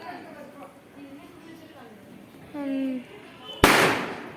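A single sharp firecracker bang cracks out near the end during a Diwali night celebration, preceded by quiet conversation and a short tonal sound, with the burst loud and close.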